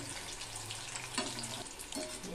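Chicken 65 pieces frying a second time over low to medium heat, a soft steady sizzle with faint watery crackle and a couple of brief stirring clatters, close by, no talking.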